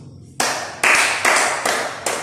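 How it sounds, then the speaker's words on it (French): Audience applause at a talk on positive thinking, sounding as a series of five sharp, loud, broadband claps spaced roughly half a second apart, close and clear with no talking. "Applaudissez pour nous."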